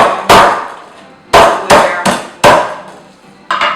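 A blade chops down through raw beef heart on a hard surface, landing six sharp, loud thwacks at an irregular pace, each ringing briefly before the next, close up with no talking.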